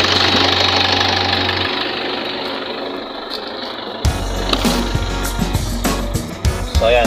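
A Toyota 2KD diesel engine runs steadily nearby with a low throbbing idle and clattering knock, then the sound shifts to a rougher, louder rumble with intermittent metallic clicks and rattles.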